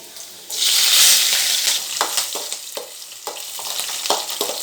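Small onion pieces, ginger and green chilli sizzle in hot oil for a veg Manchuria base, a steady loud fry with repeated stirring scrapes and clinks cutting through.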